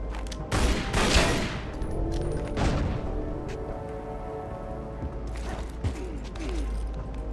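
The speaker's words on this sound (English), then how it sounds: "now we need to shoot this thing with our pistols" Pistol shots fired by the player in Tomb Raider: Legend, set in England at King Arthur's location: a few sharp loud cracks early on, then scattered lighter impacts over a steady ambient game background.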